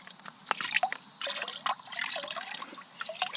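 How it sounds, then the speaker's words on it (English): Water sloshes and drips in a metal gold pan as it is quickly dipped and swirled, a close, continuous splashing with small trickles and drops, no talking. "I submerge it in water twice, like very quickly."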